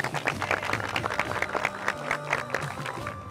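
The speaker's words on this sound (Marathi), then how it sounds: "त्यांच्याकडे जोरदार टाळ्या होऊन जाऊ" Applause from a Marathi game show audience: a rapid patter of claps with crowd noise, heard under a voice and tonal sound.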